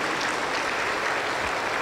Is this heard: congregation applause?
yes